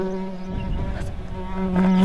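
A housefly buzzes steadily and close, its thin droning whine holding on for the whole two seconds with slight swells in loudness.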